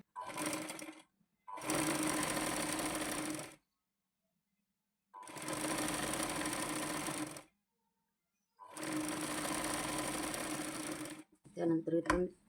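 A sewing machine stitching a 36-inch katori blouse runs in four loud, steady bursts of rapid whirring, separated by silent pauses, with a short rattling click at the end.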